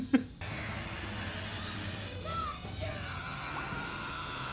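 A brief, loud shout from men charging into an attack in the martial-arts comedy Surf Ninjas bursts out at the very start, then gives way to a steady bed of action-movie noise and music.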